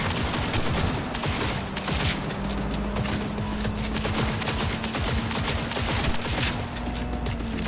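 Sustained rapid gunfire in Cyberpunk 2077 on PS4 Pro, shooting apart a bike: dense, loud bursts of automatic fire running continuously over an engine drone, with no talk.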